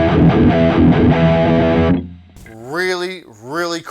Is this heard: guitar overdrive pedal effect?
yes